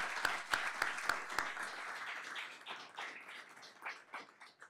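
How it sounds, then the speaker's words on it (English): Faint, scattered applause from a modest audience at the Project Aquamarine announcement by Red Bull and Rauch, opening with a few sharp taps before thinning into soft, uneven clapping. "I think it's a round of applause"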